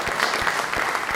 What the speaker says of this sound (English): Let's have a round of applause for Kenobi